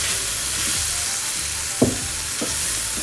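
Spices are stirred into a frying pizza-parcel filling, a continuous sizzle broken by two sharp spoon knocks against the pan.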